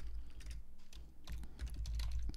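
Rapid tapping on a computer keyboard while entering data in Microsoft Access, a close, quick run of light key clicks throughout with no talking.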